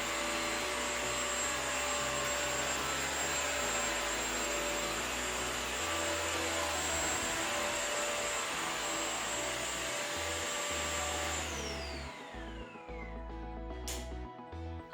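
A Eureka Forbes Zero Bend Vac n Mop cordless vacuum-and-mop floor cleaner runs on a hard floor with a steady, close, high-pitched motor whine, then winds down near the end, with no voices over it.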